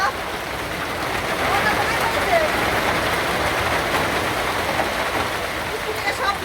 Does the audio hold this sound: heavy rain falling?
yes